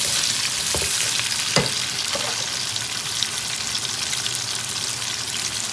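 Onion and tofu fry steadily in a pan with a dense, continuous sizzle, a few soft clicks of utensils against the pan rising above the even crackle.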